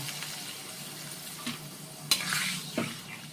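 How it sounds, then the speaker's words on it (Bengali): Fried tangra fish being stirred into a spice masala in a pan, with a soft sizzle throughout and a few sharp scraping clinks of the spoon near the end, close and alone. "মশলার সাথে ভাজা মাছগুলোর সাথে একবার আমি মিশিয়ে নিচ্ছি নাড়াচাড়া করে"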